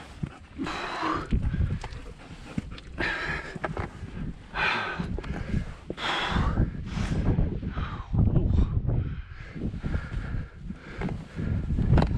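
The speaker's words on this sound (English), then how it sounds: "There's the wind." Wind gusting across the summit of Juanita Peak in Gold Butte National Monument, Nevada, roaring and buffeting close against the microphone in uneven waves, with brief voices underneath.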